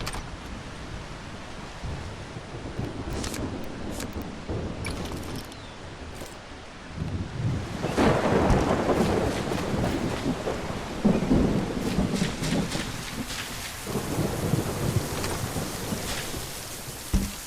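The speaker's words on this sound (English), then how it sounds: "Oh, well, it's thunder." Thunderstorm with heavy rain hissing steadily throughout, joined by loud, rumbling thunder that swells midway and rolls on in long, booming waves.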